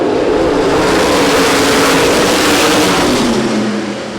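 USAC sprint cars roar as they accelerate at a race restart at Winchester Speedway, a dense, loud, continuous wall of engine noise from the pack, rising slightly then easing near the end.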